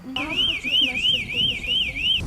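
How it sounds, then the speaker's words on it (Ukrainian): A railway level-crossing warning signal warbles up and down in a steady repeating electronic cycle, loud and close, continuing without pause until it cuts off abruptly. "проте світлофорну сигналізацію чути здалеку"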